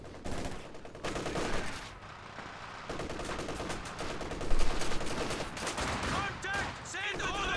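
An MG34 machine gun in a World War II strategy game fires in repeated rapid bursts amid a busy battle, with scattered gunfire and explosions around it and faint game voices.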